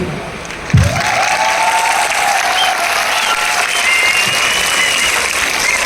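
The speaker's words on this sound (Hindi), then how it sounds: "हम लोग ताली इसलिए बजाएंगे कि जो लोग हमारे साथ ज्वाइन हैं" A large crowd at an MLM business seminar claps loudly and continuously after a brief thump. Dense applause fills the room and holds steady, with faint sustained tones running underneath.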